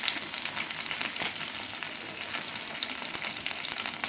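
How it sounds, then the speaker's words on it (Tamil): Curry leaves and spices fry in hot oil for a taro root fry, making a soft, steady crackling sizzle close by with faint stirring. "எண்ணெய் சூடு ஏறினதும் கருவேப்பிலை சேர்த்துக்கலாங்க"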